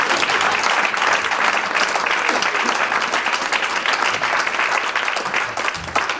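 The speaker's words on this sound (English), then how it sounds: "Somebody need to help me clap on that." An audience at a Democratic political gathering breaks into sustained applause, a dense, even wash of clapping that carries loudly throughout with no one speaking over it.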